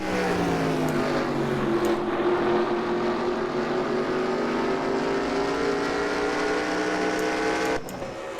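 A race car engine in the NR2003 racing game at Nazareth Speedway drones loudly and steadily with a high, rising whine as it passes, the roar continuous and close for several seconds before dipping near the end.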